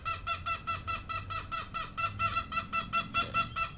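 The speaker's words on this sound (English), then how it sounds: "those are chickens in the background" Chickens cluck in the background at a rustic rural spot, giving a steady run of quick, rhythmic calls that stay fairly faint and distant the whole time, with no voices.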